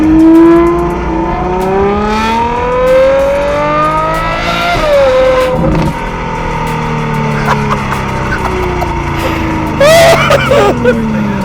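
A Ferrari 812 GTS fitted with an aftermarket exhaust revs loudly, its engine note climbing and falling over several long pulls and ending in a sharp burst near the end, with faint voices underneath.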